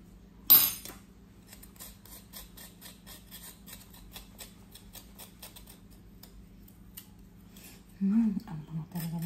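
A spoon or knife scrapes the peel off fresh ginger, faint quick scratching ticks repeating steadily and close, with a brief louder knock near the start and a clunk near the end.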